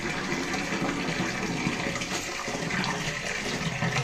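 Water runs continuously from a tap while fish is washed for curry, a steady, close rushing and splashing that carries on alone throughout.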